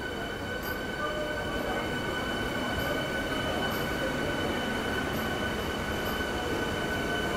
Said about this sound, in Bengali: আমাদের শিয়ালদা কৃষ্ণনগর এসি লোকাল কিন্তু এন্টার করছে শিয়ালদার 7 নম্বর প্ল্যাটফর্ম